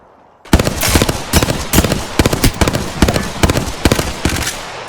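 Rapid bursts of automatic gunfire in the Apex Legends battle royale game, loud and close, firing in repeated short volleys with brief gaps between them across the whole stretch.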